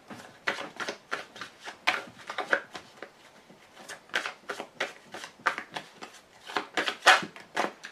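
Heavy playing cards are shuffled during a card reading, giving a series of close, crisp riffling bursts in an uneven rhythm with short pauses between them.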